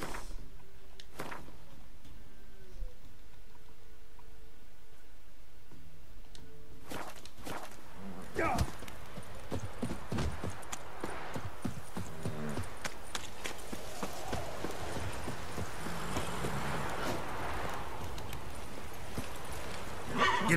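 Roach the horse in The Witcher 3 moving on foot, a steady run of hoof clip-clops that builds into rapid galloping under a game soundscape, with brief speech nearby.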